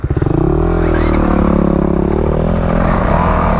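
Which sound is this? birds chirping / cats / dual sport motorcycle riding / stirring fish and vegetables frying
dual sport motorcycle riding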